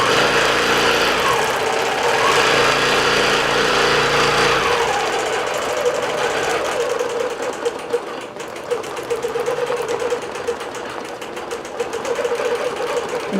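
Digital quilting machine stitching butterflies and loops on a quilt, a continuous close mechanical whir and rapid needle chatter that holds steady and loud, the motor tone shifting partway through as the pattern changes.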